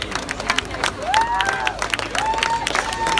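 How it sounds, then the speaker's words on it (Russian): Crowd applause and cheering for strongman Sergey Buganov after pulling three jeeps, dense clapping with rising shouts and whistles, loud and close. "Аплодисменты, овации."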